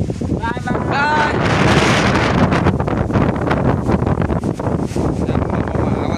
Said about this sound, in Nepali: हावा चल्यो